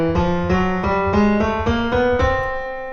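A chromatic scale on piano, about ten notes stepping upward one after another at an even, moderate pace, each key ringing into the next, loud and close, with the last note decaying away.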